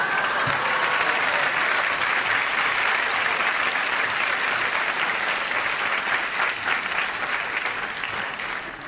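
Steady, dense applause from a large television studio audience, sustained at an even level for several seconds with a faint crowd murmur beneath, fading slightly at the end.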